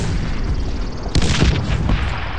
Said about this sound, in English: Caution! Grenade!